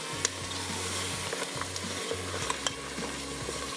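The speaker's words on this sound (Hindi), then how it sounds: "अब इस मक्खन के साथ इसकी करनी है भुनाई" Paya (goat trotters) frying in plenty of butter, a steady close sizzle with intermittent stirring clatter and a low hum running underneath throughout.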